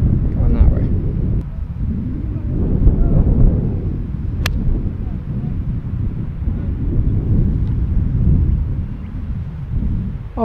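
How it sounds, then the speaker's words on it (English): Strong, gusty wind buffeting the microphone on a golf course in roughly 40 mph gusts, a steady low roar that surges and eases throughout with no clear talk over it. "Wind is going that way."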